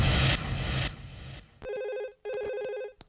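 Two bursts of an electronic telephone ring follow a stretch of muffled noise, each a rapid trilling tone, with a short click at the end.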